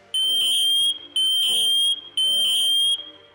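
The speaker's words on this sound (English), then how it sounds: "The alarm will sound and the red LED will flash." A MATelec smoke alarm under test sounds three loud, piercing high-pitched beeps in a steady rhythm, each lasting under a second with brief gaps between them.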